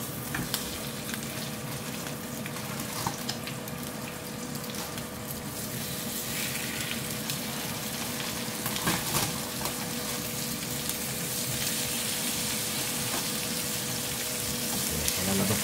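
Food fries in a dry skillet with no added oil, a steady crackling sizzle running continuously at moderate volume with faint scraping and a low background hum, no talking.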